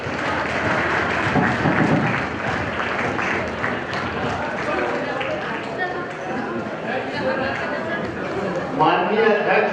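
Audience clapping at a youth parliament gathering in Siwan, a sustained crowd applause heard nearby, with voices talking over it and a swell near the end.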